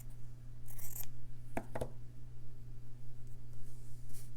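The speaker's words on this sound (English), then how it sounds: "So I'll just cut this in half." Scissors slice through a fabric scrap in a quiet room, a couple of crisp close snips in quick succession over a low steady hum.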